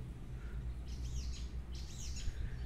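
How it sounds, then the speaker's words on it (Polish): Two short bursts of bird song sound in the shade of an outdoor garden, light chirps over a low, steady background hum. "Możecie posłuchać, jak pięknie ptaki śpiewają."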